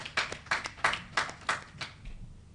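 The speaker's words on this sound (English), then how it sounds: "Please give them a round of applause for this." Scattered clapping from a small audience at a Union Bank of Nigeria annual general meeting, about a dozen distinct claps in a loose, uneven rhythm, fairly faint and fading out near the end.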